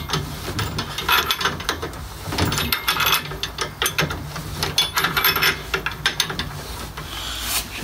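Ratchet wrench tightening the front shock absorber mount on a Volkswagen Golf 3, a close, busy series of rapid clicking ratchet strokes and metallic rubbing in bursts, with no talking.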